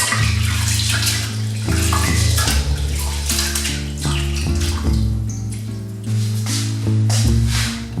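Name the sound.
washing rice in water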